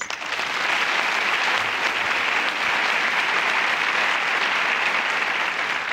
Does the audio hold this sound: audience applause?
yes